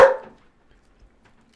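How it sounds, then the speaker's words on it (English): A dog lets out a single sharp bark at the very start, followed by near silence with only faint small sounds. "Sorry about the dog."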